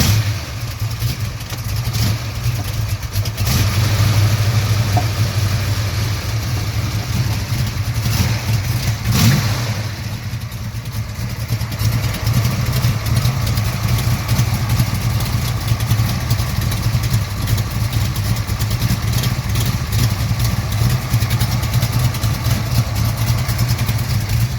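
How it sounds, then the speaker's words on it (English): A 408 stroker engine in a 1971 Ford XY GT Falcon replica with a shaker scoop settles into a steady, loud, deep idle, with a couple of brief blips along the way and no talking. "Turn the car on and listen to this 408 stroker crank over."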